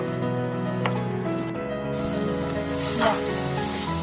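Chicken with chili flakes and soy sauce sizzles and fries steadily in a pan while being stirred, a loud continuous crackle with occasional scraping strokes and no talk.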